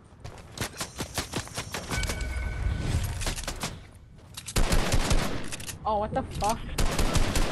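Fortnite gunfire striking a wall: bursts of close, loud rapid shots, a brief lull, then a heavier sustained volley with chirping game effects, while a player swears in surprise.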